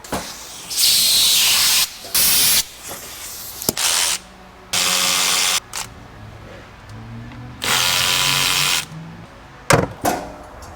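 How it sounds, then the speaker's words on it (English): Hand tools work on an aftermarket breather system under the hood of a Toyota, with loud bursts of hissing spray between clicks, ratchet turns and small metallic knocks. "I'm gonna start by removing this aftermarket breather system"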